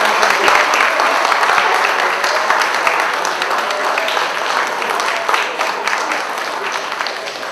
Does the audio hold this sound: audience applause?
yes